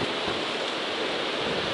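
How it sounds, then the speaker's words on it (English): Dense, roaring wind noise on top of High Top Mountain on the Appalachian Trail near sunset buffets the microphone, broad and steady for the whole short stretch, with no voices. "It's super windy"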